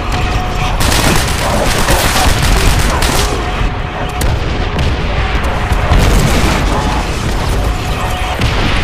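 Artillery strikes explode in Call of Duty: World at War during a team deathmatch on the Outskirts map, a loud continuous barrage of booms and rumbling blasts with gunfire mixed in and a voice calling out over it.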